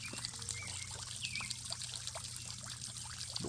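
Water trickles and pours into a backyard pond with lotus flowers, a soft continuous flow with small splashy spatters, faint and close, over a low steady pump-like hum.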